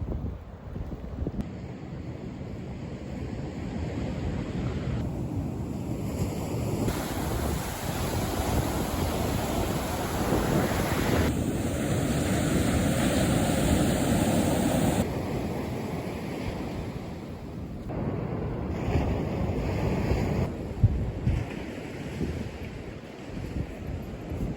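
Ocean surf rolls steadily onto a beach in Japan, a continuous wash of breaking waves with wind buffeting the microphone, loud and close with no talking.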